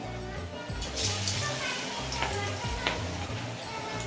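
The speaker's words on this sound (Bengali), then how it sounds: "এবার হচ্ছে ডুমো ডুমো করে পকোড়াগুলোকে ভেজে নেব।" Cabbage pakoras made without onion fry in hot oil over low-to-medium heat, a steady close sizzle with occasional stirring clinks and scrapes throughout.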